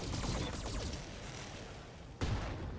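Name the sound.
ammunition explosion in BattleTech video game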